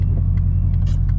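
A Subaru with a boxer engine drives along, its low, steady engine rumble loud and continuous from inside the car, with faint scattered higher noises over the drone.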